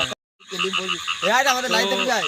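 Frogs croak at night in a dense chorus, with rapid pulsing calls that rise and fall in pitch. The croaking is loud and close, follows a brief silence at the start, and has no talk over it.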